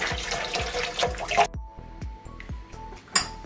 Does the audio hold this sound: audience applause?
no